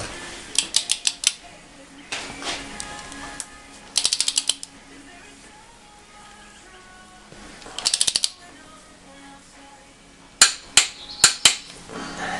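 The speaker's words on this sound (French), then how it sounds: "C'est parti pour le premier serrage, 80 Nm." Ratchet wrench tightening engine bolts to 80 Nm on a 2000 BMW 530d E39 being rebuilt, heard as several short, close bursts of rapid metallic clicking separated by quiet pauses.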